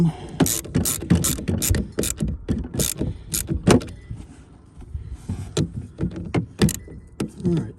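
A ratchet wrench loosens the battery terminal connectors on a 2005 Mini Cooper S, giving quick bursts of sharp metallic clicking, close and loud, broken by short pauses.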